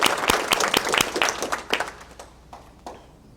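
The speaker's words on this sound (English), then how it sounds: "Now let's thank them all together with our applause." A room of attendees at a public library civic session claps in thanks, starting as a fairly full round of applause and thinning out into a few scattered, separate claps that fade away.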